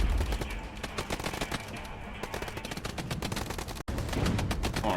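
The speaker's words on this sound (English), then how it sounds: "Our mortars are actually coming in and doing some significant damage." Mortar fire in the real-time strategy war game Regiments, heard as rapid overlapping explosive bursts and cracks that keep up through the clip, loud and dense, with a brief dropout near the end.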